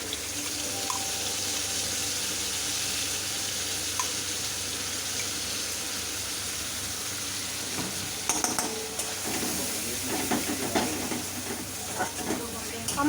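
Spice paste stirred into potatoes frying in a wok for a spicy rohu fish curry, a steady sizzle running throughout with stirring and scraping getting busier toward the end, no talking.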